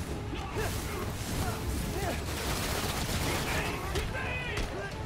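Gunfire aimed at the player in Spider-Man: Miles Morales, continuous rattling shots and crashes amid a busy, dense combat din.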